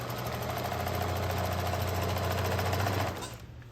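A sewing machine stitches a drawstring bag in one continuous close, rapid mechanical run of about three seconds, then stops abruptly.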